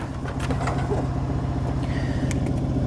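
A Mazda RX8 engine runs close by with a steady low pulsing idle, and a faint thin whine rides over it in short rising sweeps for about three seconds.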